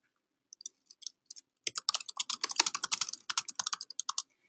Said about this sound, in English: So if I just typed in my little note here, I'll hit save.